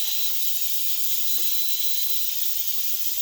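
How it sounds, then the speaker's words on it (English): An Instant Pot cooking rice vents steam through its release valve with a steady, loud hiss that runs unbroken from start to finish. "that's just the part where you release the steam"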